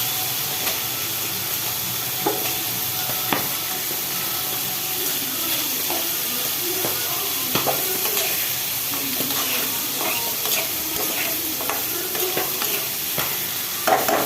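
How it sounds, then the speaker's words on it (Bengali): Fish frying in spiced oil in a home kitchen pan, with a steady close sizzle broken by frequent sharp spattering pops and crackles. No one speaks. "আর একদম মাছ ছিটছে"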